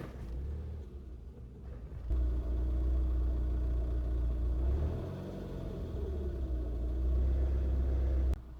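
ZAZ Sens car engine running on gas and straining, a steady low rumble that thickens and grows louder after a brief dip, close by with no talk over it.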